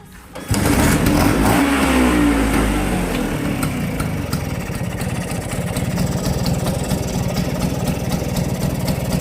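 A Vespa scooter engine on a carburetor test starts up loud and close, revs, then settles into a rough, steady putter that runs on with no voices.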